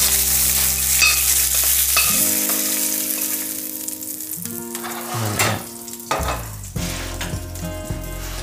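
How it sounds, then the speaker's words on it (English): Spinach wilts in olive oil in a hot pan with a loud, steady sizzle, interrupted by stirring and a few clinks of utensils against the pan, close and without voices, over a faint musical backing. "spinach and we'll throw that in the pan. A little bit of olive oil. Really quickly wilt that."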